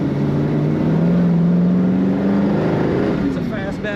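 A 1969 Ford Mustang GT Fastback with a stick shift, its engine droning steadily and rising in pitch after a shift into second gear, loud and close from inside the car.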